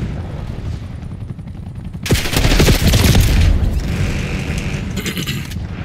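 SMG fire in a Call of Duty match opens with a sudden loud burst after quiet background noise, followed by sustained rapid shots and clattering action that trail off, with a second, shorter burst near the end.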